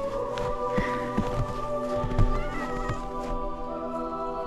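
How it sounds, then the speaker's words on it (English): A cat outdoors in the snow meows and caterwauls repeatedly at close range, drawn-out tonal cries over soft crunching footsteps and rustling, with no talking. "Cat in the snow."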